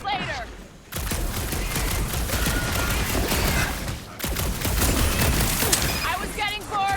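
Dense rapid gunfire rattles in the video game Marvel's Guardians of the Galaxy, bursts of shots and booms filling the scene loudly, with character voices talking in between.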